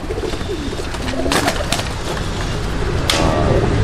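A group of Indonesian BNR racing pigeons from Purwokerto coo steadily and close by, with rustling and a few flapping bursts mixed into the dense bird noise.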